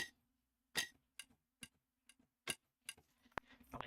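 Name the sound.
ticking percussion sample, Tommee Profitt Zenith library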